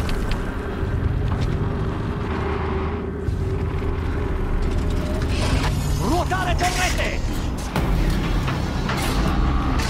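A hulking excavator machine in the video game Horizon Zero Dawn grinds and clanks with heavy mechanical rumble, dense and continuous, with a rising metallic whine near the middle and a voice speaking briefly over it.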